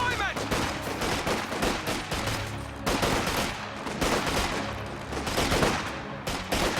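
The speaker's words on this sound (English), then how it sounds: "Volley fire there by Antilles to try and maintain some map control." Volley fire in a strategy video game crackles as dense, rapid bursts of rifle shots, loud and close, repeating in overlapping waves across the clip.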